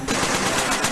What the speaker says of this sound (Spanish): La ametralladora común dispara una bala trazadora cada 5.